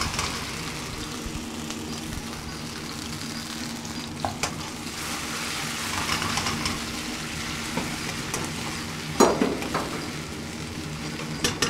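A Venezuelan sofrito of finely chopped garlic, onion and bell pepper sautés in a pan, giving a steady, dense sizzle throughout with occasional spoon scrapes and light knocks, and no talking.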